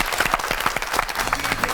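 Applause from a studio audience at a Korean television talk show, honoring a couple and their newborn quadruplets: a brief burst of dense clapping, moderately close and steady, with no talking over it.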